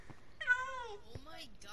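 Cat meowing in Minecraft, a single clear drawn-out meow followed by a shorter, fainter mew, close and fairly loud.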